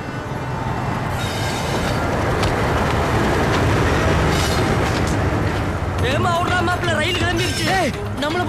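In a film scene, a train rumbles past loudly and steadily, wheels clattering, with high metallic squeals rising near the end; voices can be heard faintly in the mix.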